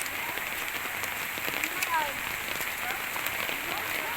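Steady rain patters on surfaces, a dense, continuous hiss, with a faint voice murmuring in the background.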